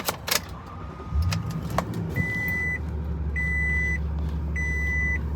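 A Toyota Tundra engine starts after a brief jingle of keys, then settles into a steady low idle rumble while a repeating electronic chime sounds three times inside the cab.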